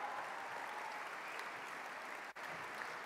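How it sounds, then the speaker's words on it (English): A crowd at a city's State of the City address claps in a continuous, fairly faint wash of applause that sounds slightly distant, with one brief dip near the end. "we'll give him a little round of applause"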